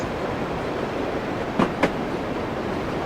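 Toy train set running on its track with a continuous close rumbling whir and two brief sharp clicks near the middle, no talking.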